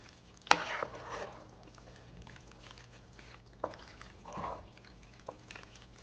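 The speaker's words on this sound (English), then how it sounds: "mixing the noodles and the cheese sauce together" Cooked noodles being stirred into cheese sauce for homemade mac and cheese, with a few sharp wet squelches and sloppy clacks of a spoon against the pot, spaced unevenly over faint quiet stirring, close up and with no talking.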